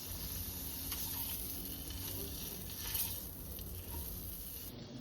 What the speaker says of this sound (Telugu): ఇలా కేర్ఫుల్గా ఎగ్స్ అన్నీ ఫ్రై చేసుకోవాలి మనం.